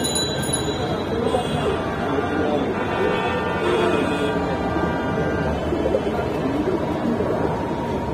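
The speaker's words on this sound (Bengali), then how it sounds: "আর এইখানে এক পেয়ার জিয়া কলা কবুতর আছে, ডিমে বসা" Pigeons coo steadily at a crowded pigeon market in Kaptan Bazar, a continuous low murmur of many birds with market noise and people talking over it.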